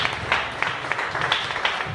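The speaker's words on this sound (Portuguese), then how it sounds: "E as palmas louvam ao Senhor" A church congregation clapping in praise, a steady run of close, rhythmic hand claps with a faint voice at times.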